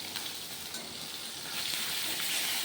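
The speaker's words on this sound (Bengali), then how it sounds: "সর্ষের তেল গরম করে নিয়েছি" Koi fish fry in hot mustard oil, a constant crackling sizzle heard up close that swells a little louder toward the end, with no voices.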